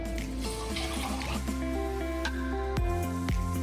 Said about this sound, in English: Now we're gonna add in the 3 cups of water.